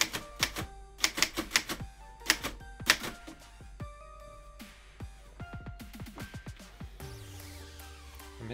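A typewriter strikes keys through carbon paper and a sheet in uneven bursts of sharp, close clacks, with small bell-like dings and a longer ratcheting carriage or paper movement near the end.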